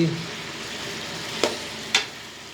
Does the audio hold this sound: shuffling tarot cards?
no